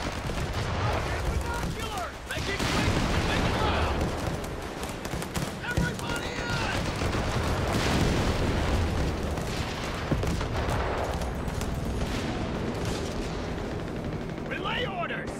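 Dense, continuous gunfire and explosions rumble through a Company of Heroes 3 battle, with a player talking over the action throughout.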